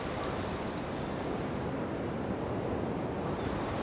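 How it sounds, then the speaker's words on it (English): Ocean waves break on the shallow reef at Banzai Pipeline, a continuous broad wash of surf that holds at an even loudness throughout, with no voices. "a very dangerous wave that breaks in very shallow water"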